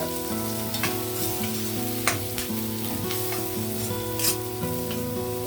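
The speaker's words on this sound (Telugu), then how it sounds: "ఇవన్నీ యాడ్ చేస్తుంటే ఉల్లిపాయలు ఫ్రై అయిపోతున్నాయి" Onions frying in a pan with chili and ginger-garlic paste for a chicken dum biryani, a loud continuous sizzle with occasional stirring scrapes, under steady tonal background music.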